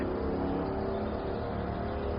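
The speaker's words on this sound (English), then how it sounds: "I'll be quiet so you can hear the loud car going by." A loud car with no muffler drives past outdoors, a harsh continuous engine roar filling the whole moment with a rough, steady rumble and no voices.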